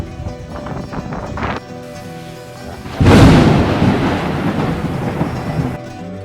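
Rain with thunder in a village during a sudden storm: a loud rumbling thunder roll breaks in about halfway and then sustains over steady rain and wind, after a quieter rainy stretch.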